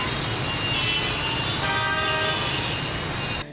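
Vehicle horns honk in a Vietnamese traffic jam, a loud, steady blare of overlapping tones held over the dense rumble of road traffic.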